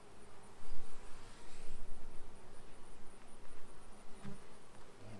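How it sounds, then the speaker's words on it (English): Honey bees buzz around an opened horizontal prototype hive, a dense continuous hum of many insects close by with shifting swells in loudness and no voices. "So these bees open up their home."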